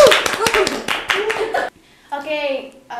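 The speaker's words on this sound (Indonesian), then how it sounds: "tepuk tangan lagi nggak?" A small group claps hands during an Indonesian podcast, a burst of crisp claps for under two seconds, followed by voices talking and chuckling.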